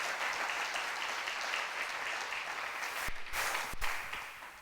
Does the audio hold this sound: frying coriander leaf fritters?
no